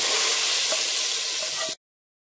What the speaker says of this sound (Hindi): तो चलिए दाल को तड़का लगाते हैं।